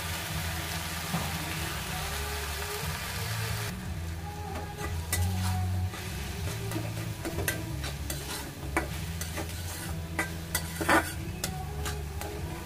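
Water spinach greens stir-fried in a pan, a constant sizzle with frequent clattering scrapes and taps of a utensil against the pan, busy and close, with no speech.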